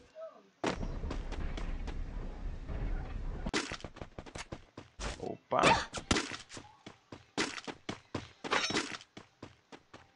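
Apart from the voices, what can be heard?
gunfire in a video game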